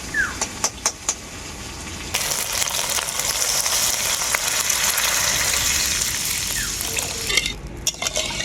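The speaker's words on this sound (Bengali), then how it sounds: "এখন এর মধ্যে দিয়ে দেবো পরিমাণ মতো জল" Water pours into fried mustard and onion paste in a pan, bringing on a sudden loud sizzle and rush, with stirring scrapes and clinks before and after.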